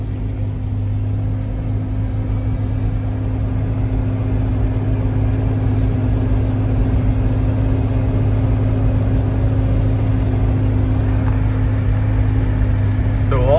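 A 2005 Jeep Wrangler TJ Rubicon engine drones steadily while driving and shifting into third gear, a loud, constant low hum with strong tonal bands and little change in level.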